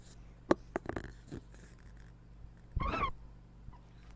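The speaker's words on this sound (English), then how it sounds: "a cat just talked on the Live" A domestic cat lets out one short, clear meow near the end, following a few faint clicks and knocks in a quiet room.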